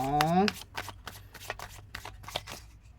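Fortune-telling cards are shuffled close by in a quick series of crisp riffling and slapping bursts, with a short voiced sound at the start and the shuffling continuing alone.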